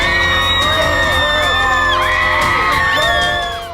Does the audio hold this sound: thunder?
no